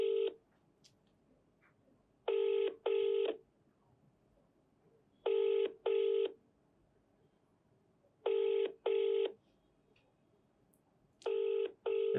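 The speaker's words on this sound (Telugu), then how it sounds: "ఫోన్ చేద్దాం." A phone call out to a pastor's office, heard as a telephone ringback tone: paired rings repeating at an even interval, clear and isolated against near silence, with no voices.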